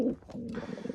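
Newly bought high-flying pigeons cooing close by, a warm, low throaty burble that rolls on steadily with soft pulsing notes and no talk.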